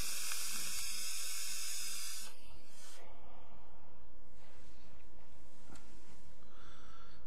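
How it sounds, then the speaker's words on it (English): The coil of a UD Bellus RTA vape atomizer gives a soft steady hiss with faint crackling sizzle, close and continuous, fading out partway and then quietly returning near the end. "I had some sizzle at the end of my hit right there"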